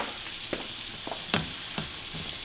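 Onions fry in a pan with a low continuous sizzle, broken by a few sharp utensil scrapes and clacks.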